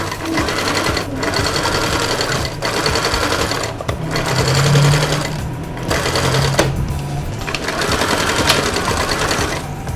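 A sewing machine stitches the pocket bag of a lined suit trouser in several bursts of rapid, close mechanical whirring and clatter, separated by short pauses, loud and near with no talking.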